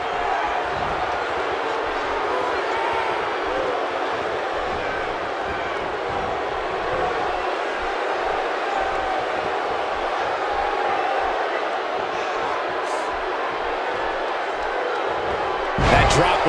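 Arena crowd noise from the WWE 2K18 wrestling video game, a Survivor Series 2017 simulation: a steady, loud roar of cheering fans runs throughout, with a sharper burst near the end, under continuous play-by-play commentary.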